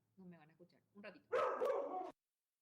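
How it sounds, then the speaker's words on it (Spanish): A small female dog barking close by, a short run of yips rising into a louder, longer bark, mixed with a person's voice. "le voy a sacar a mi perrita que me está acá haciendo ruido"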